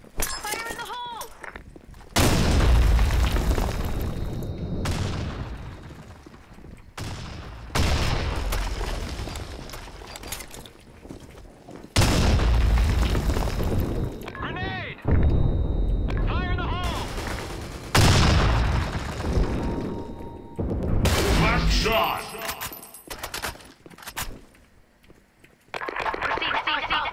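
Grenade blasts and bursts of gunfire in the shooter game Blackshot come in loud, heavy chunks separated by short quiet gaps, some with a booming low thump, repeating across the stretch with a few faint voices between.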